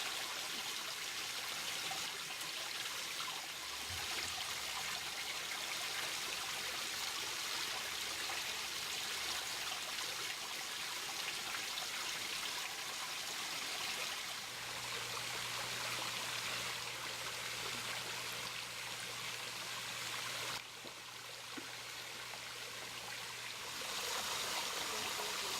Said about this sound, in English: Don't miss out on the smaller waterfalls that are just above the big ones.